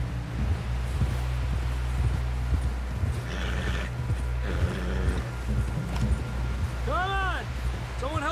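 Horse hoofbeats from Red Dead Redemption 2 thud steadily at a riding pace beneath a steady low rumble, with a horse's whinny near the end; voices talk over parts of it.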